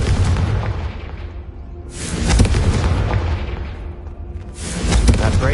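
Confringo fire spell blasting in a Harry Potter video game: two heavy booming bursts about three seconds apart, each with a loud impact followed by a rumbling fiery tail.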